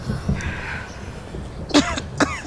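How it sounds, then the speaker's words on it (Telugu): An elderly woman outdoors in cold wind gives two sharp, close coughs in quick succession near the end, after a quieter stretch of faint background noise. "చూసారా ఎలా దగ్గుతున్నారో?"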